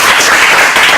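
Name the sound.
applause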